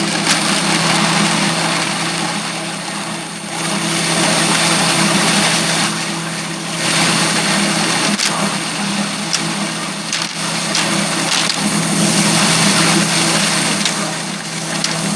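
A grain winnowing machine runs with a loud, steady mechanical drone and whirring hum, close by and unbroken, with faint periodic rattles and no voices.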